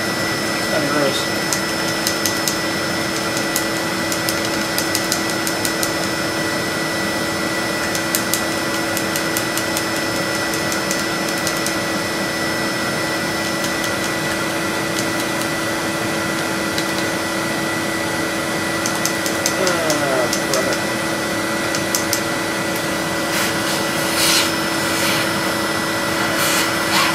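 A vacuum cleaner runs continuously while its airflow spins the fan inside an 800 MHz eMac, giving a steady whine and hum with occasional ticking and a brief voice.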